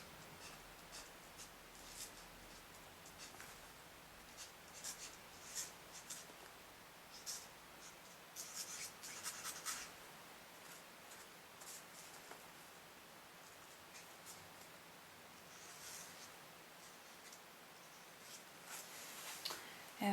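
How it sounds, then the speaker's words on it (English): A pen scratches out a message on black card in soft, uneven strokes, faint and close, with no talking. "I would write a message"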